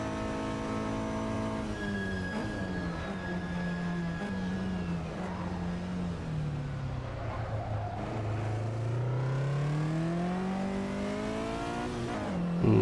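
Mercedes six-cylinder engine in a vintage GT sim racing game: a sustained tonal engine note that drops and rises through gear changes and revs, with other cars faintly whining in the background.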